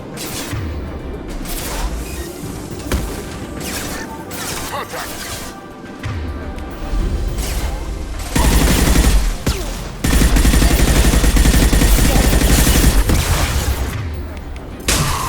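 In the Mass Effect 2 video game, gunfire plays out as loud, dense bursts of automatic shots and heavy impacts. A louder barrage swells near the middle and continues to the end, with brief game voices mixed in.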